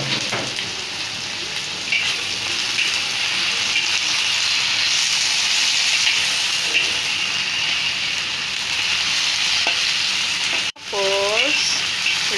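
Tofu stir-fried in a pan with sea mushroom, carrots and ginger gives a steady, close sizzle and crackle throughout, with a short drop near the end and a brief tonal squeak afterward; no talking.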